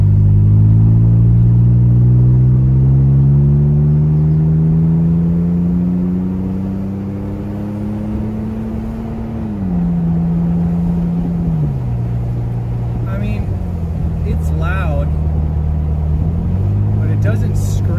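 Toyota Tacoma with a Runnin4Tacos overland exhaust pulling onto a freeway with the window open, the engine drone climbing steadily through a gear, then shifting and cruising, with a voice speaking near the end.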